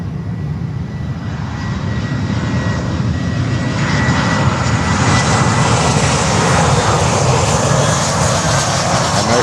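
An American Airlines jet arriving at Miami airport from Havana, Cuba, gives a steady, loud engine roar that swells slightly as it approaches and fills the whole stretch with continuous rushing noise.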